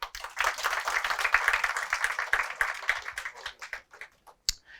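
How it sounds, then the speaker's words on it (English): A small classroom audience applauds a student's contribution during a lecture on problem definition: a few seconds of brisk, close clapping that thins out into scattered individual claps and then stops. "Can we have a little round of applause for Nivedita?"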